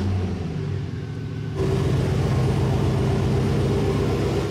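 A truck engine idles with a steady low rumble that grows slightly louder partway through and then holds even and close, with no talk over it.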